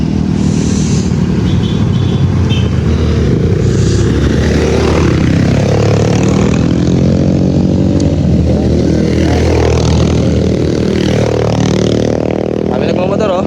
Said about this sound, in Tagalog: Ito yung mga dala naming mga motor.